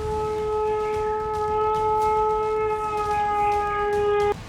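An air-raid siren in Lahore holds a steady, sustained wail for several seconds, loud and unbroken, then cuts off abruptly near the end.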